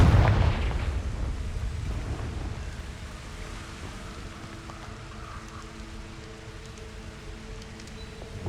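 A Confringo blasting spell in Hogwarts Legacy erupts with a loud explosive boom at the start, then fades into a long rumbling, crackling tail that lingers for several seconds.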